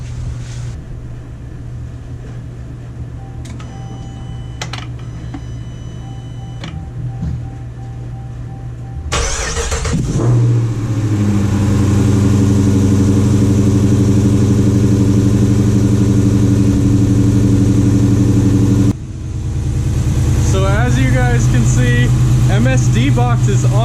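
A 392 engine with a reworked intake manifold and an MSD ignition box starts after a quieter stretch, then runs loud and steady with a deep, even drone, with one brief dip before carrying on.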